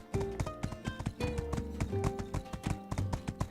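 A horse trots along in the video game My Time at Sandrock, its hooves clip-clopping in a quick, even rhythm over light game music.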